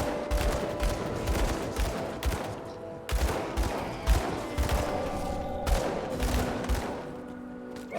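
A rapid, gunfire-like attack in the action RPG Grim Dawn: a relentless stream of sharp, punchy bursts, loud and close, with brief gaps between volleys.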